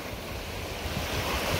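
Ocean waves breaking on a shore, a steady broadband rush of surf with a slight swell toward the end, mixed with wind noise and no voices.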